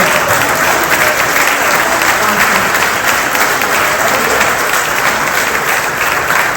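Wedding guests at a reception dinner applaud after a speech, a dense, loud, sustained burst of clapping from a large crowd that holds steady throughout with no talk on top.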